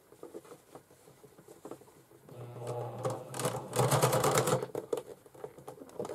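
Sewing machine stitching a bag, a fast mechanical patter of needle strokes that builds into a louder, steadier run in the middle, with softer ticking and handling noises around it and no talking.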